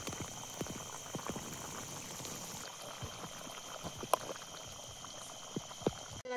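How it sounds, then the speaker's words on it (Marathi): Vajri (tripe) curry in black masala boils in a pot at a riverside cooking spot, giving a soft, steady bubbling with scattered small pops, faint and close, with no talk. "तर बघा किती मस्त उकळी यायला लागली"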